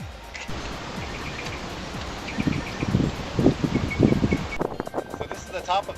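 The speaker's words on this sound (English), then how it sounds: "Kind of windy out here." Wind gusting atop the Elbow Reef Lighthouse in Hope Town, Elbow Cay, Bahamas, rushing and buffeting the microphone in rising bursts, with people talking nearby and a faint high chirping in the background.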